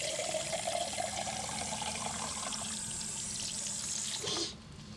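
Well water contaminated with methane and heavy metals pours steadily from a household tap in a continuous rushing splash. The flow is cut off abruptly near the end, leaving quiet room tone.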